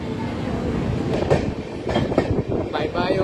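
Pinakini Express with new coaches pulling out of Ongole station, a steady close rumble with rhythmic wheel clatter and faint squeal, as voices murmur underneath.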